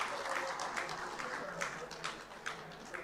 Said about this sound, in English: let's give a huge round of applause for the service of the amazing traffic wardens